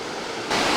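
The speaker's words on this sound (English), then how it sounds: "So it's basically a two-level fall," Water pours down a two-level waterfall in Gros Morne National Park, a dense, steady rushing roar that swells louder partway through, brief and without any voices.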